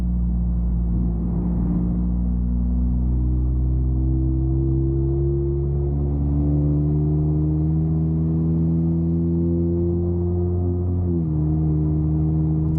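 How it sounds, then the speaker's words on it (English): A loud, deep catless Toyota Camry engine drones steadily with a low rumble in New York City traffic, pitch rising gradually as it accelerates, then dipping briefly near the end. "obviously because the car is loud"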